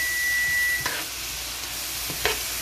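A spoon stirs chopped parsley through Portuguese pepper paste in a hot frying pan, giving a steady close sizzle with a few soft scraping strokes and no talk.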